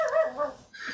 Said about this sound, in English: dogs are making a visit